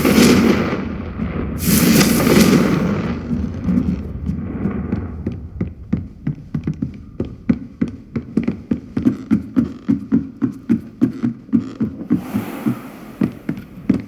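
Confringo fire-spell blasts in the video game Hogwarts Legacy: a burst of whooshing magic followed by a rapid, rhythmic train of sharp popping impacts that continue steadily for several seconds.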